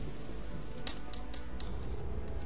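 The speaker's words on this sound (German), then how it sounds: "Und jetzt haben wir auch einen schönen Regen, passend zum Anfang des Spiels" Steady rain falls in the fantasy video game Gothic 2, a constant even hiss with a few faint drop taps and no voices.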